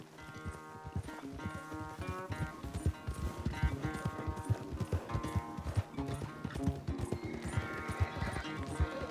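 Galloping horse hooves in a race in Red Dead Redemption 2, a fast, steady drumming clip-clop close up and continuous, with game background noise beneath.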